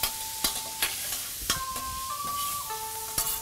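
Vegetables including asparagus stir-fried with butter and Japanese soy sauce, a steady sizzle broken by sharp clacks of a utensil against the pan at irregular intervals, close and moderately loud with no talking.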